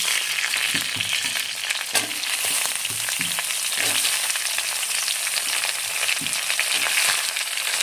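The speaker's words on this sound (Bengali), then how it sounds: "আলুগুলো সামান্য ভেজে নিলাম এখন দিয়ে দিচ্ছি কেটে রাখা বেগুনগুলো" Cut eggplant pieces drop into potatoes already frying in oil for a khoyra fish curry, giving a dense, close crackling sizzle with a few soft thuds and stirs early on.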